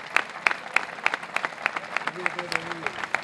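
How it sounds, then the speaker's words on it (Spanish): A small crowd at a village mural unveiling claps in a fairly regular rhythm, close and clear, while a voice briefly talks over the applause partway through. "Un aplauso para todos ellos."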